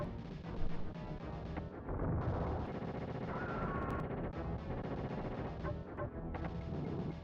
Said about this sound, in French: Un coup de lance-roquette.